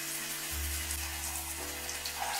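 Shower water runs steadily in a dim bathroom, a continuous hissing spray with a low hum underneath, fairly quiet and unbroken.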